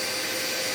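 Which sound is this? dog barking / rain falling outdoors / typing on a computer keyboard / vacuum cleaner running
vacuum cleaner running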